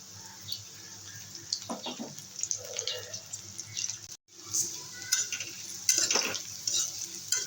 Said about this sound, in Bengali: পেঁয়াজ রসুনগুলো ভাজা ভাজা হয়ে গেছে